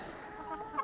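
Hens plucking at each other in a backyard poultry yard, with soft clucks and a few brief, slightly louder calls near the end over a low background.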